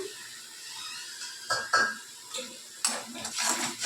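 A spatula scrapes and clatters against a pan while salted stuffed-okra filling is stirred and sautéed, quiet at first, then several sharp scraping strokes in quick bursts over a faint background hiss.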